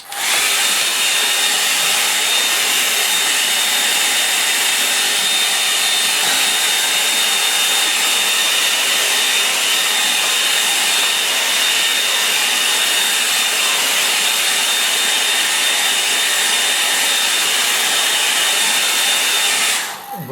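A hair dryer blows steadily and loudly for about twenty seconds, drying a watercolour painting of the River Stour in Kent, with a constant whine and no talking.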